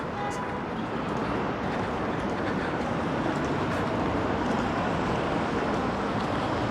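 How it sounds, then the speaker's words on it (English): Continuous rumbling rail noise of a tram rolling past in Nottingham, steady and fairly loud with city traffic blending in, no clear talk. "we've got a tram over there"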